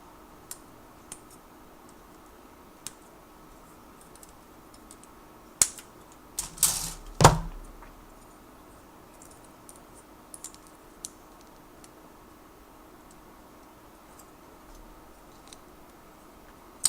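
Plastic model kit parts cut from the runner of an HG 1/144 RGM-79C GM Type C kit: a few sharp nipper snips and clicks in a quiet room, with faint scattered ticks between them.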